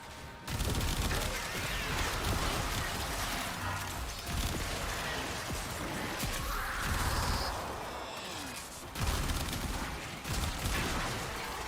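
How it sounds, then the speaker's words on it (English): Continuous dense barrage of explosions and gunfire with crashing booms in Warframe, loud and chaotic, lasting throughout. "Explosions."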